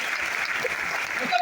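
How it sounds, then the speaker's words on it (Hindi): Brief applause from an audience at a stage event, a short burst of light clapping that continues evenly across the moment. "वेरी गुड, ताली होनी चाहिए।"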